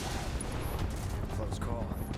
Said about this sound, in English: Open fire! Shoot to kill!